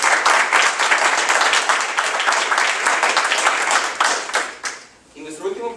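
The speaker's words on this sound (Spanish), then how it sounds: "Demos un fuerte aplauso a Crescent Guillot." An audience at a science-and-religion debate gives loud, dense applause that fades out near the end as a speaker's voice returns.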